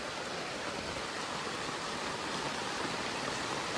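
Heavy rain pours down around a tarp shelter, making a steady, dense, unbroken roar with no pauses and no voices.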